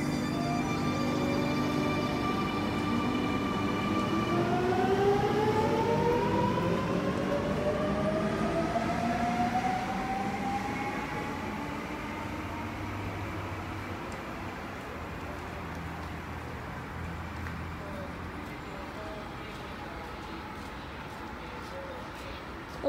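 Electric commuter train pulling away from a platform at Warwick Farm station in Sydney, its rising motor whine sweeping upward over a steady rumble of wheels, loud and close at first then gradually fading as it departs.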